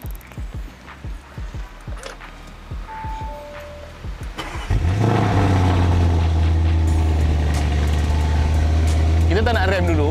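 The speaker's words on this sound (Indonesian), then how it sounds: "Dan bunyi ni datang dengan exhaust Akrapovic." Lamborghini Urus SUV fitted with an Akrapovic exhaust starts up with a sudden deep roar, then settles into a loud, rumbling idle with a few blips, after a stretch of someone talking over softer clicks.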